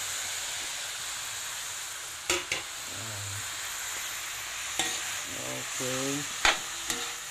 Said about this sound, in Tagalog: Halo-haloin.